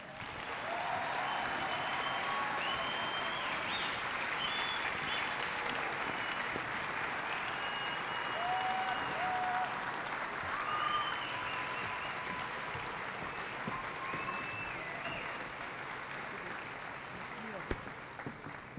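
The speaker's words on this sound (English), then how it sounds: "Please help me, ayúdenme a darle la bienvenida a nuestra honorable congresista, Michelle Lujan Grisham." Audience applause greeting Congresswoman Michelle Lujan Grisham at a public event, sustained and steady clapping from a large crowd, loud and continuous for the whole stretch with no speech over it.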